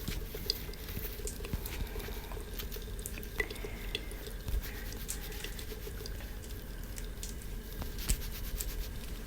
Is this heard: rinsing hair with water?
yes